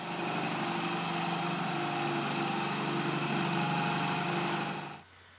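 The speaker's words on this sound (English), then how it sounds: "So let's go down to the basement and drill a couple holes." A power drill drilling holes runs with a steady, high-pitched motor whine continuously for about five seconds, then cuts off abruptly, leaving near silence.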